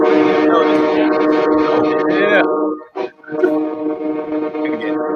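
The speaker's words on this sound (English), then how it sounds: "That is a great horn to play in the background." A freight train horn blares loudly and sustained with a strong harmonic tone. It breaks briefly and then sounds again under background noise at a live race broadcast.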